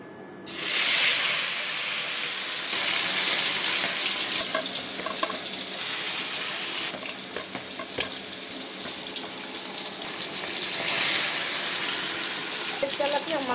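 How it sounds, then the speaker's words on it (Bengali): Large tilapia fish, salted and turmeric-coated, frying in hot oil with a loud, continuous sizzle and crackle that starts suddenly and runs throughout. "মাছটা আমি এখন ভেজে নেব।"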